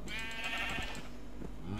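A sheep in a modded Terraria/Minecraft game bleats once in a long, wavering call, followed by a softer second bleat, heard over a constant low game background.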